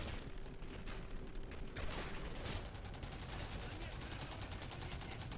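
Rapid bursts of gunfire from the video game Singularity rattle on steadily through the whole stretch, dense and continuous, with a player's voice faintly underneath.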